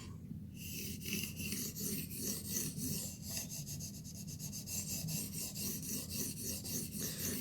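Steady rhythmic rasping strokes of a knife edge being worked to remove the burr after sharpening, close and continuous with regular repeated passes and no talking.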